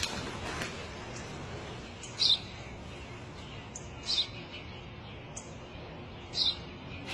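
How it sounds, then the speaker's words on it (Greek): A sparrow gives a few quick, high chirps spaced a couple of seconds apart, faint against a constant airy background, with no voices. "Ένα σπουργίτι."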